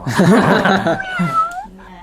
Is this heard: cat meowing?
yes